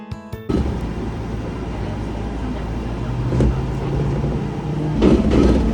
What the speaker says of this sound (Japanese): この電車は柏原駅各駅停車です。